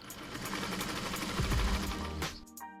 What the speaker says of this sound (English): I sewed a double line of zigzag stitches on each side of the tape